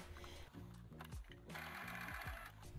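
A sewing machine top-stitches through layers of fabric on a dress made from a bedsheet: a quiet, rapid mechanical run in short bursts with brief pauses between them.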